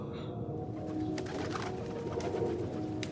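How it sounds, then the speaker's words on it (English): Soft pigeon cooing in a low, murmuring rhythm, heard faintly over a steady background hum with a few light clicks. "The pigeon made a cooing sound above me from the top step."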